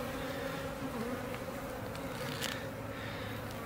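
Honey bees buzz around a hive being installed into nucs, a dense continuous drone close by with no talking.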